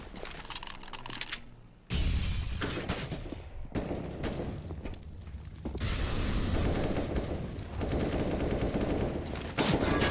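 Rapid bursts of automatic rifle fire in a Counter-Strike match between Virtus Pro and AVANGAR, loud and dense with overlapping shots and sharp cracks, continuing almost without pause.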